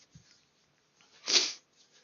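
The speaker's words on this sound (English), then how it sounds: "Excuse me, I just sneezed." A single human sneeze, short and close, rising out of near silence with a faint small sound just before it.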